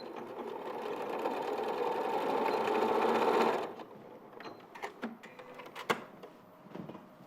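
A sewing machine stitches a tapered fabric dart in one steady, whirring run lasting a few seconds, then stops, leaving faint handling clicks and rustles.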